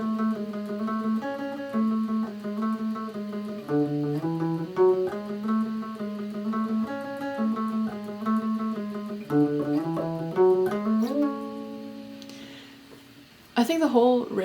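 An electric guitar plays the palm-muted riff from a worship song, a clear run of repeated, close-up single notes alone, ending on a held note and a brief noise.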